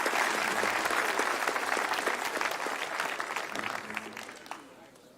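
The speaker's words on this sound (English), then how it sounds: "So let's give them a round of applause." An audience at a graduation ceremony breaks into steady applause, dense clapping that holds for several seconds and then gradually tapers off, with faint voices underneath.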